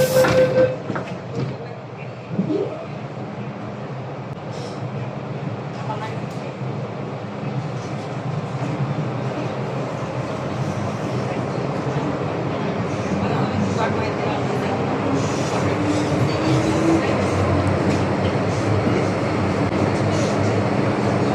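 A Hong Kong MTR train carries passengers in a steady, loud rumble that deepens and swells as it gathers speed, with faint voices in the carriage beneath the noise.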